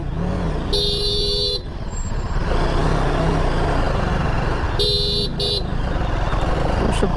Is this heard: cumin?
no